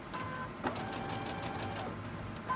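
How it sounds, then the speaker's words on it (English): A sewing machine stitches a quilt block seam in a steady, continuous mechanical run with a rapid needle rhythm, close and moderately loud, with a brief clunk partway through and another near the end. "I'm going to sew this half here, and then I'm going to sew the other half"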